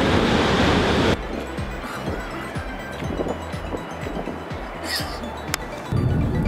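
Surf breaking at a famous beach on Australia's Great Ocean Road near Torquay, a loud broadband wash of small waves rolling in, with wind buffeting the microphone at the start and end.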